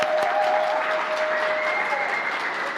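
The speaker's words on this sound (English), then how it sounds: "and we can applaud them." Church gathering applauding a couple, a sustained crowd of clapping hands at moderate distance, with a faint steady tone sounding underneath.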